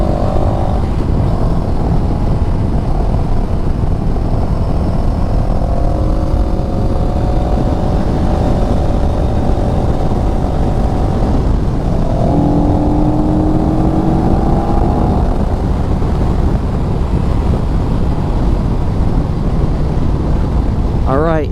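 A CF Moto CLX 700 motorcycle ridden along a curving road, engine droning and shifting pitch under steady rushing wind noise, with brief rises as it accelerates between gears.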